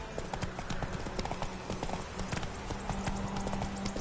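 Roach, a horse in The Witcher 3 video game, trots with steady, rhythmic clip-clop hooves close by, under a dense ambient game soundscape.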